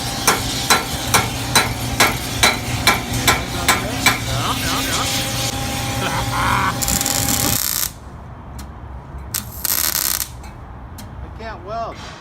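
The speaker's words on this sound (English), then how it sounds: "Master Mechanics Hammer." Master Mechanics hammer striking metal in a quick series of sharp, ringing blows, evenly paced for several seconds, followed by quieter clanks and scraping handling sounds near the end.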